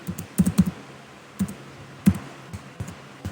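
Keys clattering on a computer keyboard while code is entered for an Angular tutorial, a quick cluster of clacks then scattered single presses, close and fairly clear with no talk.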